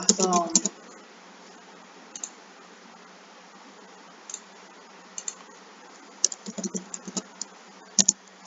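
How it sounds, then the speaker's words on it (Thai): Typing on a computer keyboard: sparse, crisp key clicks in short clusters with pauses between, heard close. A voice speaks briefly at the start. "เริ่มต้นจากการพิมพ์"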